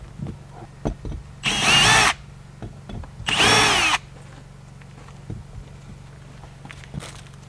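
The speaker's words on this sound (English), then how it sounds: "for testing the hole or drilling the hole, leave that off." A power drill whirs loudly in two sustained bursts of about half a second each, separated by a short pause, with faint knocks and shuffling around them.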